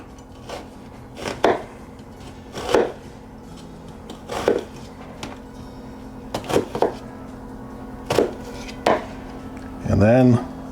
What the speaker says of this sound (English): About every 1/2 inch or so, I'm making a slice.